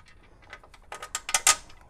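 A ratchet clicks as bolts are tightened while front QA1 coilovers are fitted to an '86 Monte Carlo SS: a short run of close metallic clicks that grows louder and quicker toward the end.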